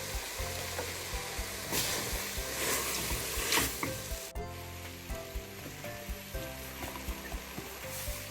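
Onion and leek hit a pan over cooked-down tomato with ginger and chilli, producing a dense continuous sizzle with frequent clattering stirs, close and fairly loud, no voices.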